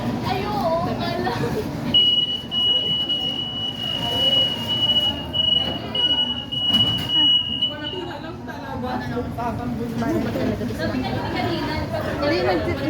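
Riding an LRT train, people chatter close by over a steady rumble of rail cars in motion, and a thin high-pitched electronic beep tone sounds for several seconds partway through.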